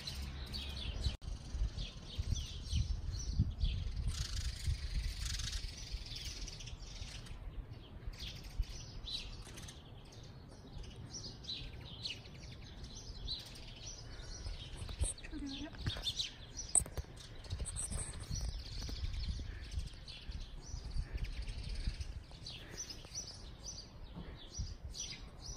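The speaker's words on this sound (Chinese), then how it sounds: "热闹的就是鸟了，看这有一只海鸥，" Scattered bird calls, including a gull and pigeons, sound faintly across a quiet Polish residential neighbourhood on an April Sunday morning, short chirps over soft low ambient rumble while a person talks.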